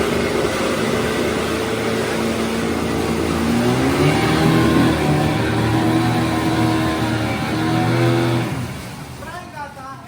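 A Hidea 15 PRO two-stroke outboard motor runs in gear and rises steadily in pitch as it accelerates, its buzzing drone close and loud for about eight seconds before easing off, with a voice speaking at the end.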